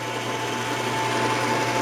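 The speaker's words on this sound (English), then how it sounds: "let's face off the inside of that bolt head" A machine faces off the inside of a bolt head for a pipe hole saw, giving a steady, continuous whir with a constant tonal hum throughout, fairly loud and close, with no talking.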